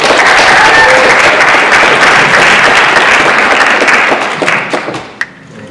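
Loud, sustained applause from an audience welcoming 101-year-old Carl Rogge, a 1928 graduate, fills the hall with dense clapping before tapering off into scattered claps near the end.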